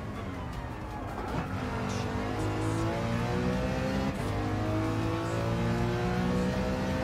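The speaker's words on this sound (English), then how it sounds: "Not bad little BMW, little M3." BMW M3 in the Gran Turismo 7 racing game: a close, continuous engine note climbing through repeated upshifts, each rev rising in pitch before dropping back, loud and steady throughout.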